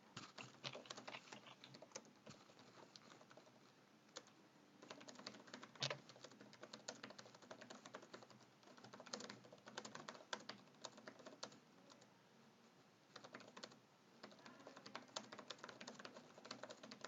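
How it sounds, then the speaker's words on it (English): Typing on a computer keyboard in a meeting room, continuous quiet clicking of keys in uneven bursts with short pauses, faint and close. "I'm gonna start typing it up."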